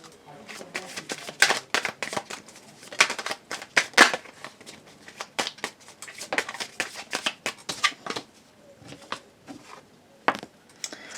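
Oracle cards being shuffled and drawn by hand, producing soft riffling and flicking bursts close by, running under a woman's steady French speech.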